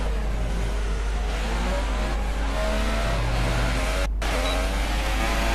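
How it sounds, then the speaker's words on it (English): A Formula 1 car engine in F1 2018 held at very high revs from late upshifts: a loud, constant, strained whine with only a brief dip. It continues without a break and no one speaks. "Now absolutely torturing my engine by not upshifting quick enough"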